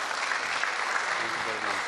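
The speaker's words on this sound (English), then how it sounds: "So you have to give him hands of applause, please." A conference audience applauding in steady, dense clapping that fills the short moment at moderate volume, with no one speaking over it.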